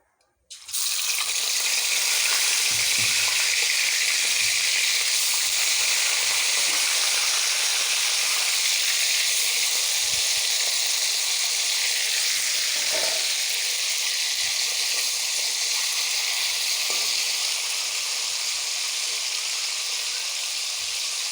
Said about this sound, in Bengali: এরপর আমি মাছটা ভেজে নেব।